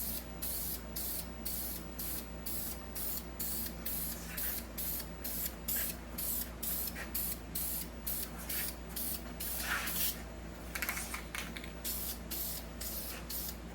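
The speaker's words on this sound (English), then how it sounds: "We're going to spray out here, make sure we've got a clean nozzle," A spray nozzle applies a light coat of paint to brake drums, giving a steady airy hiss broken into rapid repeated bursts, close and even throughout, with no talking.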